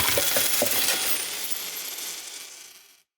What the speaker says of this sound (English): initial coins that are getting spilled and then the impact